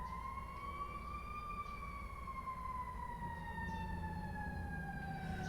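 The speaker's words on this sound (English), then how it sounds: "I will let the ambulance pass" An ambulance siren wails in a slow, drawn-out sweep as it passes through a city street, the tone rising then gradually falling with the Doppler shift, moderately loud over steady traffic rumble.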